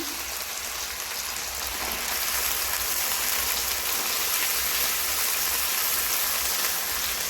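Soaked chickpeas frying in a pan make a steady, close crackling sizzle like rain on a surface, even and continuous from start to finish with no voices.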